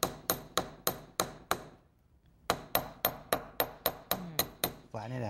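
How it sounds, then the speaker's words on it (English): A chasing hammer strikes sterling silver wire to flatten and texture it, giving sharp ringing metallic taps: six in a steady rhythm, a brief pause, then about nine more, close and loud. "This is called a chasing hammer."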